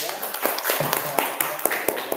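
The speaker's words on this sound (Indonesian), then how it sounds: "boleh tepuk tangan untuk temannya" A sixth-grade class at an elementary school claps for classmates after a group presentation, brisk scattered hand claps close by with a voice speaking over them.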